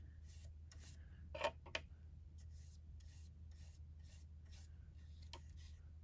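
A soft, wet paintbrush scrubs and rubs across paper, activating pencil marks, in a series of short, quiet strokes over a low steady hum.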